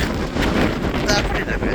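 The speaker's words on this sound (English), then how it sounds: "It's quite windy." Wind buffets the microphone on a beach, a rough, gusty roar that swells and dips across the short stretch, loud and close.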